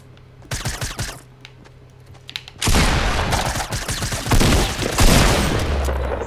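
Gunfire in Fortnite Battle Royale, scattered shots at first and then a loud sustained volley of rapid overlapping bursts and booms.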